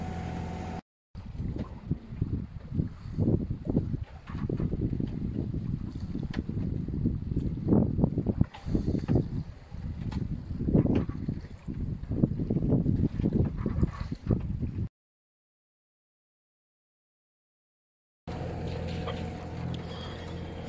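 A sailboat motoring at sea under engine power at about three and a half knots gives a low, uneven rumble mixed with wind buffeting and water wash, cut by a few seconds of silence.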